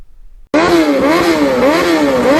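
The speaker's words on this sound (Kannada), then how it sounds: "ಇದೆ ನೋಡ್ರಿ, ದ ಕವಾಸಾಕಿ ನಿಂಜಾ ZX6R." A Kawasaki Ninja ZX6R 636cc sport motorcycle bursts into a loud, close engine roar after a brief quiet moment, its pitch rising and falling in quick revving swells with nothing else heard.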